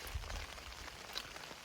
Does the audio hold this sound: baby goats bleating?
no